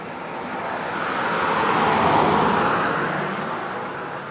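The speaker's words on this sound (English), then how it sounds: "a car's about to go by" On an early spring morning, a single car approaches and passes by, its tire and engine noise swelling to a peak midway and then fading away.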